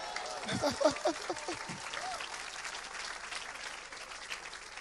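A church congregation applauds together, a steady wash of clapping with a few brief voices rising near the start, then continuing evenly at moderate loudness.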